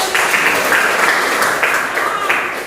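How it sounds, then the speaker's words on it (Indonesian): Classroom applause rings out steadily throughout, a dense patter of hands clapping at moderate loudness, with some voices mixed in underneath. "Oh iya, tepuk tangan dulu."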